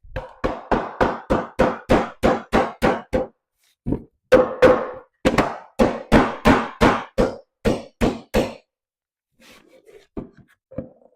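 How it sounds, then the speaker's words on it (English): Drawers being hammered off a wooden cubby: about twenty sharp, loud blows land in quick, even runs, broken by a few short pauses, then a couple of fainter knocks at the end. "I was thinking I was going to be able to hammer them off."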